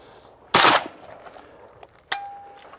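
Two suppressed .22LR gunshots through a Shadow Silencers DUO DUO, each a sharp, fairly loud crack with brief outdoor decay, spaced about a second and a half apart, the second followed by a faint ringing tone.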